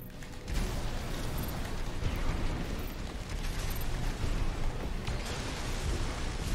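Dense, continuous rumbling explosions and blasts from missiles in Armored Core 6 player-versus-player combat, loud and unbroken throughout with no talking.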